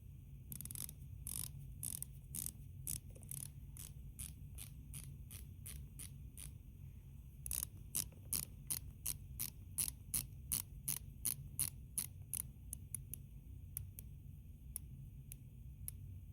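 A faint mechanical watch, a Seiko Prospex Samurai diver, ticks steadily and quickly, each tick a crisp tiny click over a low background hum.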